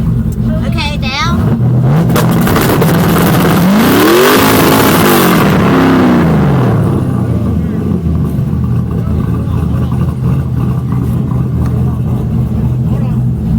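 A Mazda Miata revs hard while spinning burnout doughnuts, its engine note rising and falling in loud sweeping surges over steady tire roar, with voices briefly audible near the start.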